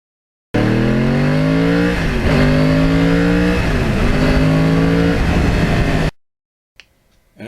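A Yamaha R1 crossplane motorcycle on a street, close and loud, its engine note climbing through several rapid upshifts in one continuous pull before cutting off abruptly into near silence.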